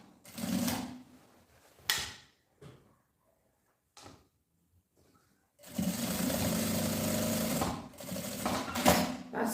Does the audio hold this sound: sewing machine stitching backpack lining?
yes